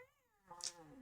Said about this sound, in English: He meowed.